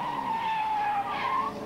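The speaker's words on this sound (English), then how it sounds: "the historic Grand Prix cars were reliving the contests of former years" Historic Grand Prix race cars skid on a racing circuit, giving a loud, sustained tyre squeal that wavers in pitch over a steady engine roar and holds for under two seconds.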